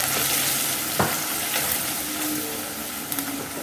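Masala, salt and turmeric sizzling in a hot pan for a curry, a steady close frying hiss with a faint scrape of stirring and a couple of small clicks.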